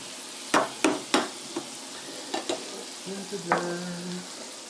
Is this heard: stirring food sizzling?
yes